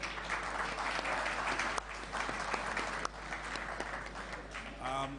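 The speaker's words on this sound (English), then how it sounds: "let us give a round of applause to our panelists" Audience applause for panelists at a cyber security discussion event in Zimbabwe, steady dense clapping filling the clip, fairly distant, with brief voices surfacing near the end.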